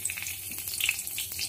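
A torn bay leaf sizzles in hot oil left from frying potatoes, a brief, close, steady crackle with tiny spits and pops.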